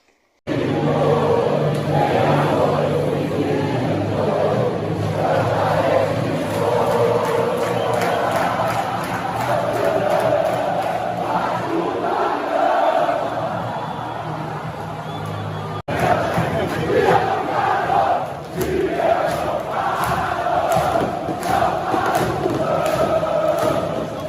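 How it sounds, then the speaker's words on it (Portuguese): Vasco supporters fill the stands at São Januário stadium with a dense, steady roar of chanting that runs unbroken and loud for the whole stretch. "confira aí um trechinho da nossa torcida aí dando um show, né, em São Januário"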